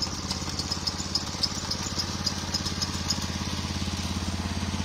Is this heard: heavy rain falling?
no